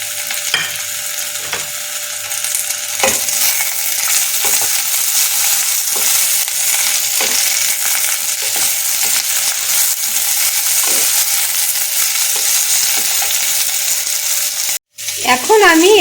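Capsicum being stir-fried in a pan for a homemade tofu dish, a steady loud sizzle running throughout with repeated scraping strokes of a spatula and a brief cut near the end.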